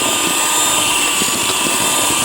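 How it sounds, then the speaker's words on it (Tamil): An electric hand mixer whirs continuously at high speed, beating an egg into sugar and butter for ginger cookie dough, a loud steady whine with faint scraping, and no voices over it. "முட்டை 1 சேர்த்து நல்லா பீட் பண்ணிக்கலாம்."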